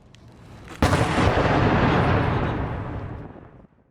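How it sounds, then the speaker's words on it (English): Deafening outgoing artillery and rocket fire on a Ukrainian front line: a single huge blast erupts sharply, then a long rumbling roar rolls on for nearly three seconds before fading, loud and close with no voices. "The noise of outgoing artillery and rocket fire is deafening."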